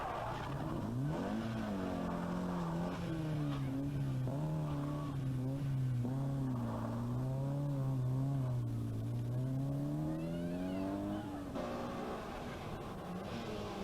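An Opel Manta rally car at the 1983 Ulster Rally, its engine rising and falling through the gears over about fourteen seconds as the car slides along, with tire squeal and skidding mixed in, fairly loud and continuous.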